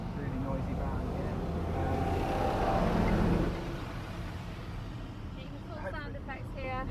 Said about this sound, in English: Sorry, it's a really noisy van here.